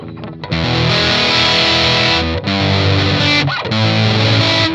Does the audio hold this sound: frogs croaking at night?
no